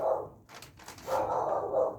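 A dog barks a few times nearby, the barks blurred and muffled as if from another room.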